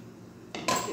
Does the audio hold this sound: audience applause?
no